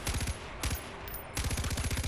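Rapid automatic gunfire in Far Cry 4 aimed at a honey badger, two close, loud bursts of evenly spaced shots separated by a brief pause.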